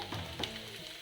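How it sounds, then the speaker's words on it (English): Onions, chilies and garlic fry in a pan for a Soya Manchurian, a soft steady sizzle with small crackles and a stirring scrape, close and fairly quiet. "Now you have to fry these ingredients until they become golden brown."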